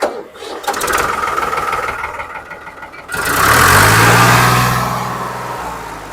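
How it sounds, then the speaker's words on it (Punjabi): A tractor engine at a tractor market chugs and rattles at first, then revs up into a louder, steady roar before gradually easing back. "ਆ ਦੇ ਆਵਾਜ਼ ਦੇਖ ਤੂੰ ਟਰੈਕਟਰ ਦੀ"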